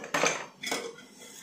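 A lid set down on a cooking pot while curry cooks in a home kitchen, giving two clear metallic clatters about half a second apart, close and moderately loud, each ringing briefly before fading, with no talking.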